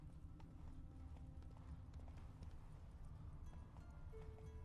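Hooves of the horse Roach clip-clopping in a fast rhythmic gallop across the ground in the video game The Witcher 3, steady and continuous with faint ambient game sound, moderately quiet.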